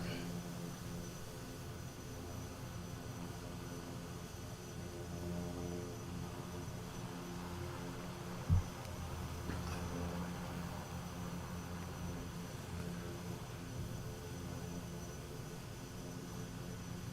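Kodiak bush plane waiting on the runway in Microsoft Flight Simulator, a steady droning propeller engine hum throughout with one brief knock midway, while someone talks over it.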